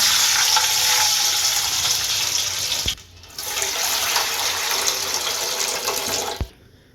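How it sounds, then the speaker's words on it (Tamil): Water poured into a cooking pot to boil rice for chicken tikka biryani, a loud continuous rushing splash that stops briefly, resumes, then cuts off, with a soft clunk at each stop. "நல்லா பொறிஞ்சு வந்துட்டு இப்போ அரிசி வேக வைக்கிறதுக்கு தேவையான அளவு தண்ணி சேர்த்துக்கலாம்"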